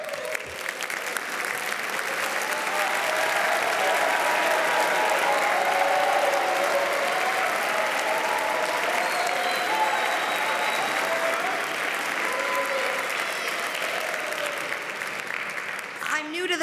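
Sustained audience applause at a music festival as band directors stand, steady broadband clapping holding at an even level throughout, with some voices mixed in.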